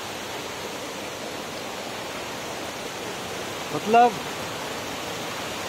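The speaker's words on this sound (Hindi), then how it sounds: "फाइनली हम लोग पहुँच चुके हैं वाटरफॉल, आवाज़ें आ रही होगी, और मैं आपको दिखाता हूँ ये वाटरफॉल।" Steady rushing roar of a hidden waterfall at Bagar near Pangoot, Nainital, filling the whole clip as a constant broadband wash, with a single brief spoken word over it.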